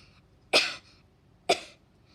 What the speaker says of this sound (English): All the adults start to coughing too.